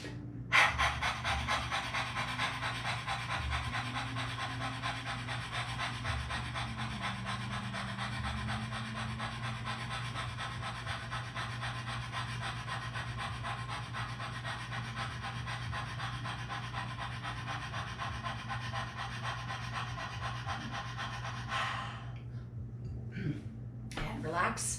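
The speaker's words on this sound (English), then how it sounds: "leaning forward, sticking your tongue all the way out, and dog breath once again" Rapid, steady dog-breath panting through an outstretched tongue during a Kundalini yoga throat exercise, a continuous rhythmic rasp of breathing that runs for most of the stretch before breaking off near the end, with low background hum.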